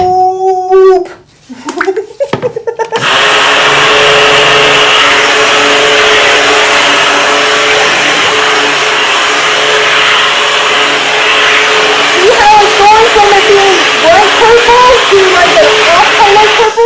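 Lye and oils for cold-process lavender soap are mixed with a stick blender, a loud, steady motor whine that runs on after a few short starts and stops, with someone speaking over it near the end.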